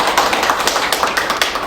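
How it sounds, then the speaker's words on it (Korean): Audience at a Korean forum on disability voting rights applauds a National Assembly member, a dense, steady patter of many hands clapping close and loud throughout, with no talk over it. "소병훈 국회의원님께 다시 한번 큰 박수 부탁드리겠습니다"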